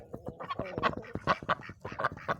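Several ducks quack close by in quick, overlapping bursts, loud and clear with no talking.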